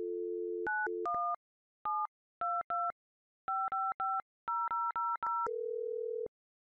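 Telephone line tones: a steady dial tone, then a sequence of crisp touch-tone dialing beeps in short bursts with pauses, ending in another sustained tone, clean and alone.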